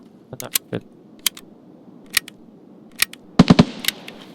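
Sharp gunshots from Escape From Tarkov, on the Ground Zero map, crack at irregular intervals, with a quick cluster of rapid shots near the end, while a voice talks faintly underneath.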